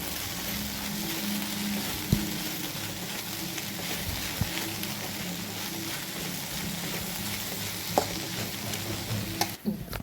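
Okra frying in a pan with turmeric for a Kerala stir-fry sizzles steadily while a spoon stirs it, adding occasional soft scrapes and clicks against the pan, close and even, with no voices.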